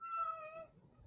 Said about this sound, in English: There's his cat.